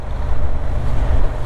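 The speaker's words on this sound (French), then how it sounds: "On entend les turbulences plus qu'on ne les sent" Heavy wind turbulence roars around a rider on a Honda Transalp 750 motorcycle, a dense, continuous low rumble with no pauses.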